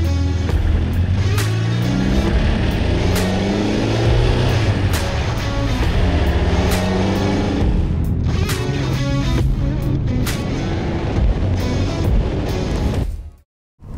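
A TVR Cerbera sports car drives steadily with a loud, continuous engine note that rises and falls through gear changes, heard alone with no talk, before cutting out abruptly near the end.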